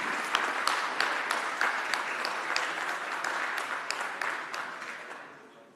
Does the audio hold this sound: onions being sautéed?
no